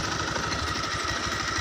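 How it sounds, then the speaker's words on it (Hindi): A motorcycle engine runs steadily during a ride on the road, giving a continuous rhythmic rumble with wind noise throughout. "हम लोग अभी बाइक में आ रहा है गाइस"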